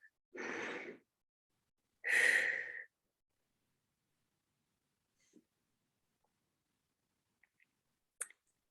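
Two deep breaths taken during a guided meditation at a symposium opening ceremony, a slow inhale then a fuller, louder exhale like a sigh, followed by near silence with a few faint clicks.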